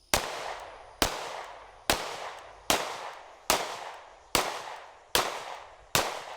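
Eight evenly spaced gunshots from a Sig P320 X-Ten 10mm pistol in relatively rapid fire at a range, each a sharp loud crack with a short decaying tail, about one shot per second.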